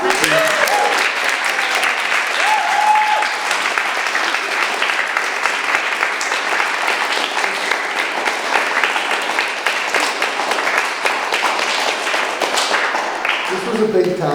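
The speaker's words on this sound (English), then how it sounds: "give Freja one more round of applause" An audience applauds Freja at an awards event, a long, steady round of dense clapping that holds evenly throughout, with brief voices and tones faintly at the start and end.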